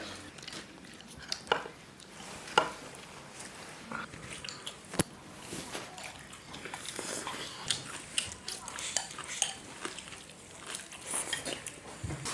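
Beef ribs being chopped with a large cleaver on a board, a series of irregular sharp knocks and thuds among clattering kitchen noise, with people talking throughout.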